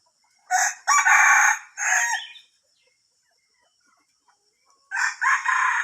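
Released jungle fowl rooster crowing near a house in Thailand, one loud, close crow broken into bursts, then a quiet gap, then the start of another crow.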